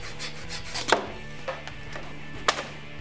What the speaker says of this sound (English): So we just can just shave a little bit off the bottom.